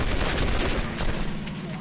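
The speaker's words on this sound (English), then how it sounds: "Was that blimp shooting at him?" A blimp in a video game firing rapid bursts of gunfire, a dense rattling volley lasting the whole short moment, loud and close, with no talk.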